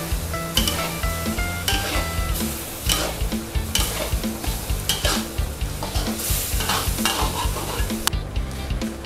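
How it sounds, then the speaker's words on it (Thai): Luffa stir-fried with egg and pork in soy and oyster sauce, sizzling loudly in a wok under a brisk, rhythmic scrape and clank of a spatula, close and without speech. "จากนั้นก็ปรุงรสด้วยซอสปรุงรสค่ะซีอิ๊วขาวนะคะซอสหอยนางรมค่ะผัดให้เข้ากันดีเลยนะคะ"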